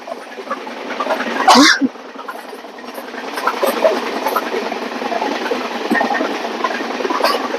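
Steady rumble of the Konkan coast train running along the tracks, with a brief louder burst early on and continuous rolling noise throughout.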